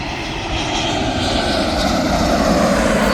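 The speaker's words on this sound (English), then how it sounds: "There's a flight behind you now." A Turkish Airlines airliner passes at Birmingham Airport with a loud, steady, broadband engine roar that holds strong throughout, with no voices.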